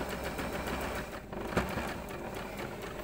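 A sewing machine runs a short reverse stitch while a zip is sewn onto fabric for a pencil case. It makes a steady, fast mechanical whirring and ticking that stays close and fairly quiet throughout.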